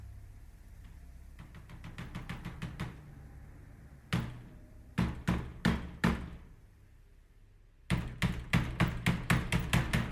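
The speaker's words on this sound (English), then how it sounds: "Hark, more knocking." Knocking on a door during a stage performance of Macbeth, arriving in insistent bursts of rapid raps separated by short pauses, loud and close in a quiet hall.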